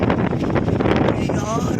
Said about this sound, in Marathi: जोरात वारा सुटला आहे अक्षरशः झाडाच्या फांदे हलतायत